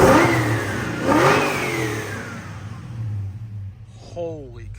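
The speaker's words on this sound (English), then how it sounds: "Let me get on the gas pedal a little bit. I want you guys to hear this." A 1970 Chevrolet Chevelle with an LS engine revs twice in quick rising pulls, then settles back to a steady, loud idle nearby.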